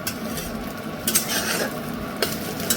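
Thick leaf paste made from ghetkol (kharkol) leaves fries in a kadai with a soft, steady sizzle. A spatula gives a few short scrapes and clinks against the metal, close up, and nobody speaks.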